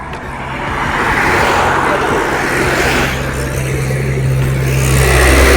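A car engine runs steadily as the driver pulls the vehicle out in Kanker, a continuous mid-low drone that builds slightly toward the end, with road and traffic noise around it.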